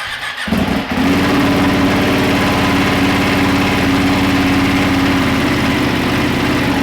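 A Ducati Panigale 959 motorcycle engine turns over and catches after a brief crank, then settles into a loud, steady idle with a low, even throb close by, no voices present.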